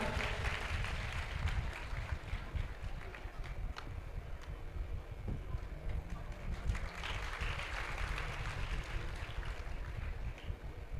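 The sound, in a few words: audience applause at a Ram Katha gathering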